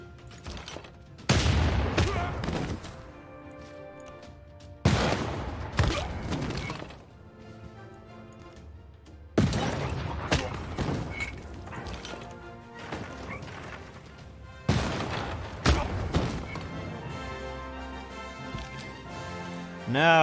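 Artillery bombardment in Civilization VI, heavy crashing volleys landing in four separate bursts a few seconds apart, each a loud impact with a rattling tail.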